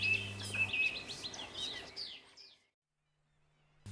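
Great tit song in a garden, a few high, bright repeated chirps over soft background hum, fading to near silence.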